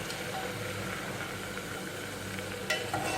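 Onions, ginger, garlic and spices roast together in a pan for a fried moong dal, giving a steady close sizzle with soft stirring scrapes throughout and a couple of sharper clinks near the end.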